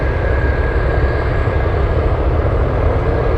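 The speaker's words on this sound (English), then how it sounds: "Right now they're doing a run-up, checking each cylinder, making sure there's no misfires." A Douglas DC-6 piston propeller airliner at Anchorage Airport runs up its engines in a loud, steady, droning roar, close and continuous with a faint high tone above it.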